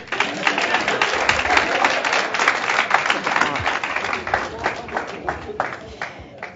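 A crowd applauds after a STEM presentation, a dense, sustained wash of clapping close by that swells, holds steady, and then thins into scattered claps near the end.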